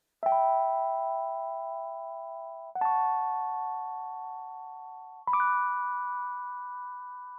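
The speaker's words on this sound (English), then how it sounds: "So next up, what I added to the beat is some Rhodes." Rhodes electric piano with tremolo, part of a boom bap beat: three soft, bell-like chords struck a couple of seconds apart, each ringing out and slowly fading, quiet and alone.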